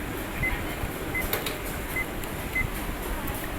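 A handful of small button presses on a hygrometer, each giving a faint click and short high beep, spaced irregularly over a quiet background.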